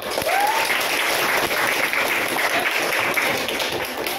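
Audience applause after a classroom presentation, dense steady clapping from many hands lasting the whole four seconds at even loudness, with no talk over it.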